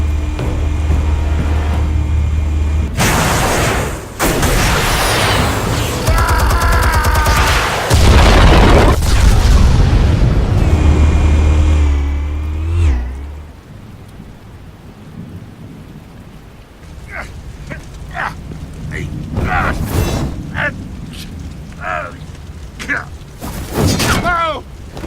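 Explosives detonate in the Telltale Batman game as heavy rumbling booms, several loud blasts with crashing debris, then quieter scattered impacts and sharp cracks afterward.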